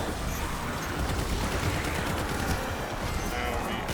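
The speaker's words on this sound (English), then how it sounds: "Alright, start shooting him." Guns firing in Call of Duty: WWII, a steady dense barrage of shots and bursts, loud and continuous across the whole stretch.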